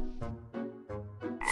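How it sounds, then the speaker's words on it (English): Cartoon frogs croak in a children's counting show, giving about five short, resonant croaks in an even rhythm, close and clear with nothing else heard. "Five frogs singing."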